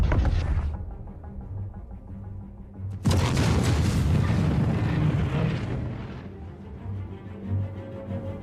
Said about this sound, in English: 4 torpedoes. Take that, Idris.